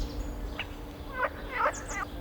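A reed bunting in a marsh gives a few short, scratchy chirps against steady outdoor background noise. The notes come in small clusters and stay faint and fairly distant.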